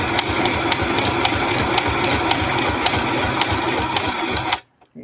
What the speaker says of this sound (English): I'll show off the wonders of my sewing machine.